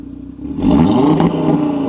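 An Audi RS3 engine in dynamic mode revs up sharply from idle into a loud, sustained, raspy roar heard up close, with no voices over it.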